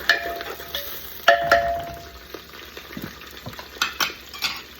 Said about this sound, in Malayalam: എല്ലാം കൂടെ ഇങ്ങനെ വഴറ്റി